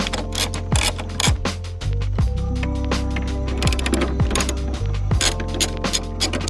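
A hand ratchet loosening 10 millimeter bolts on an MK6 Golf R during turbo and cylinder head removal, fast clicking pawl sounds in bursts with metallic clinks, loud and close, no talking.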